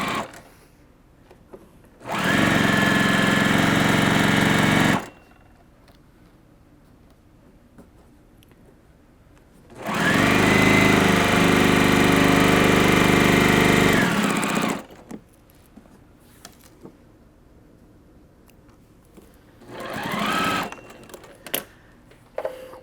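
A sewing machine stitches an open quilt seam across oversized stripes in three bursts: two long, loud, steady runs of about three and five seconds separated by quiet, then a short softer run near the end.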